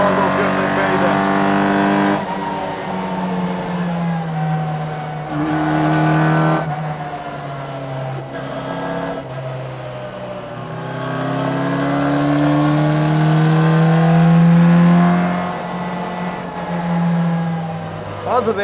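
Inside the cabin of a restomod rally Mini, the engine and intake behind the instruments rise and fall through several revs, loud and close, with shifting pitch sweeps and brief lifts between pulls.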